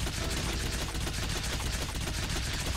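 Rapid gunfire in the action game Killer is Dead, a dense unbroken barrage of shots that fills the whole stretch at steady loudness with no talk over it.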